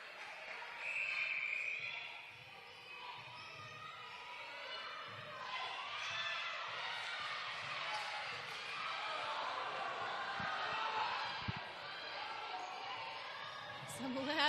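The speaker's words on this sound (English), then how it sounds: "Some loud yells of disapproval from the crowd about the decision" A netball crowd at an indoor show court in a tight finish, a sustained roar of yelling and shouting in disapproval with a commentator talking over it and a few thumps of play.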